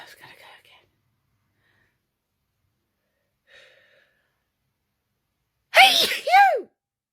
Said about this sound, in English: I'm sneezing at home